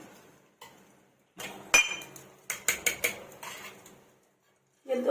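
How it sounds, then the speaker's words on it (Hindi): Metal utensils clink and scrape against a pan of ghee while making a tempering, a quick series of sharp knocks, close by, between quiet pauses. "ये तड़का तैयार कर रही हूँ मैं।"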